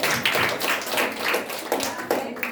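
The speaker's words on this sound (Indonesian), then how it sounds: "kita beri tepuk tangan untuk teman kita yang depan" A room of classmates claps after a group presentation, giving steady, dense, close applause with uneven individual slaps throughout.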